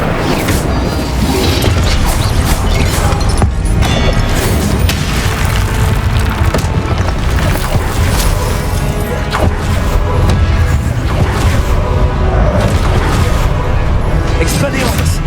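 Fire spell bursts in Hogwarts Legacy during a loud, dense combat scene, with heavy booming crashes and crackling layered continuously over game music and effects.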